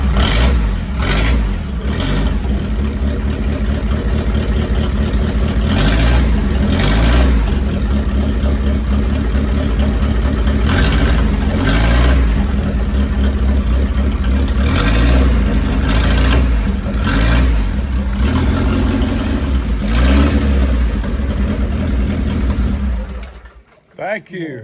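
A 1936 Harley-Davidson Knucklehead motorcycle engine, started with a kick, runs loud and close with steady idling and repeated throttle revs, then cuts off near the end.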